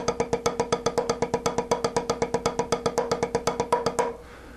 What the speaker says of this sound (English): if you play a paradiddle a lot in your drumming